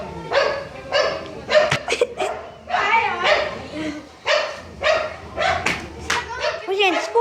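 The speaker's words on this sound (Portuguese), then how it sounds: "desculpe aí que tem um cachorro latindo" A dog barks repeatedly at close range, with short yaps and whimpers in quick irregular bursts, mixed with people talking nearby.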